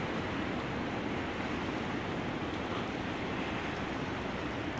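Ocean surf breaking on an offshore reef at Carlsmith Beach Park in Keaukaha, Hawaii, as a steady, dense wash of waves and wind noise that continues without a break and without any voices.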